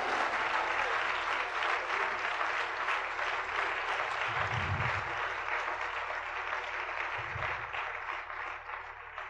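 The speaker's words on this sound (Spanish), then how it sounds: "¿Cuántos aplauden en nombre del Señor?" Church congregation applauding during a sermon, a sustained even wash of many hands clapping that fills the room at moderate volume throughout.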